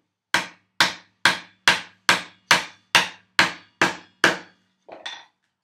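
A chisel is struck into wood with ten evenly spaced, sharp knocks at a steady rhythm, followed by one softer, scraping hit, chopping a mortise for a workbench build.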